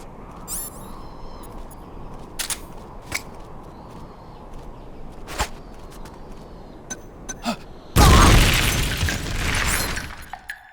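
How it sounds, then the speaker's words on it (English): An explosion in the video game Metal Gear Solid: Peace Walker bursts out loud and sudden after a quiet stretch of scattered clicks and ambient game sounds, then rumbles for a couple of seconds. "An explosion!"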